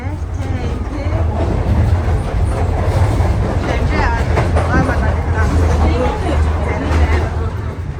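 A passenger train in motion near Shenzhen, heard from inside a carriage as a steady rumble and rhythmic wheel clatter under continuous nearby chatter and talking.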